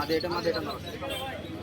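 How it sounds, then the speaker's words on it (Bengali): Soft cooing of Napoleon Kagji pigeons close by at a pigeon market, low and throaty, partly under someone speaking throughout. "নেপোলিয়ান কাগজি পায়রা দেখুন মাদি কোনটা নর কোনটা"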